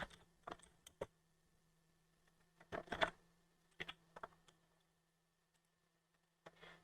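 Typing on a computer keyboard during office accounting data entry: scattered bursts of quiet, crisp key clicks separated by pauses, close but faint in a quiet room.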